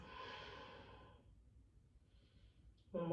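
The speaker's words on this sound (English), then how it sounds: "Nice deep inhales. Nice full exhales." A single deep, slow exhale during yoga practice streams out softly at the start, and a stronger breath sound swells at the very end, with a quiet pause between.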